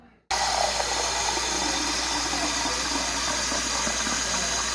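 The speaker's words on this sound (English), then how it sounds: "add a couple of cups of water now." Water pouring steadily into a crockpot of chili, a loud continuous rushing splash that starts abruptly and holds at even strength throughout, with no talking.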